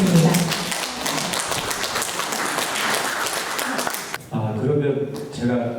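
Audience applause at an academic conference welcoming a university professor to the podium, a dense, close burst of clapping that fades out near the end as the room quiets.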